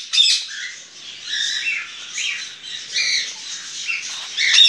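Ringneck parakeets in a breeding aviary squawk in harsh, shrill bursts, several birds calling over one another in close succession with brief gaps between calls.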